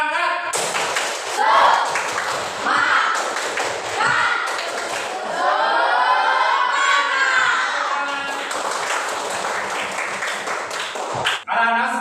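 A primary-school class performs a tepuk semangat chant, children shouting in unison between sharp patterned claps and thumps. The rhythmic bursts are lively and close, with a short pause near the end.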